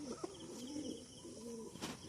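Pigeons kept as a hobby at a friend's house, including young birds, give soft, low cooing calls in a couple of rounded phrases, close by and moderately quiet, with no talking.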